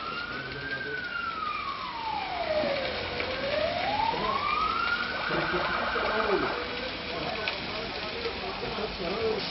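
A fire engine siren wails through one long rising and falling sweep at a building fire between residential complexes, loud but somewhat distant over a busy background of crowd noise and voices.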